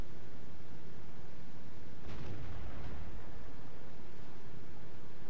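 Heavy tank cannon shot in World of Tanks, a single deep boom bursting out midway over a constant loud rumbling engine-and-battle noise bed, with a faint second thud later.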